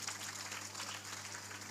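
Applause from an audience at a religious discourse by a swami forms a dense, even wash of many hands clapping at a distance, steady and fairly faint over a low electrical hum.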